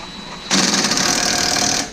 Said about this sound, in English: I'm just going to take my little drill here, walk it on through just a little bit